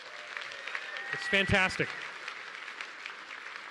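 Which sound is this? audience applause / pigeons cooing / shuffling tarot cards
audience applause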